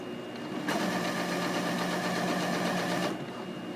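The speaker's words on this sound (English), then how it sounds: "Alright, I'm going to start stitching this." A sewing machine stitches a garment sleeve in one continuous, fast whirring run of about two and a half seconds, close and steady, starting and stopping abruptly against a quiet room.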